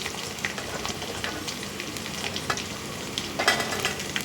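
Garlic fries in hot oil in a kadai with a constant crackling sizzle, scattered sharp pops and light stirring scrapes, close up and without any voices.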